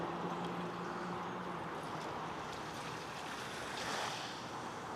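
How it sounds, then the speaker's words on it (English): Water laps on a shore during outdoor paddleboard yoga, a steady soft wash of small waves mixed with wind rumble and no voices. "Let the water lapping on the shore caress your body"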